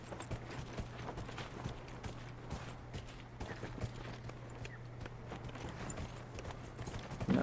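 A horse's hooves clip-clop steadily in Dragon Age: Inquisition, quiet and even-paced over a low electrical hum, with a louder thump at the very end.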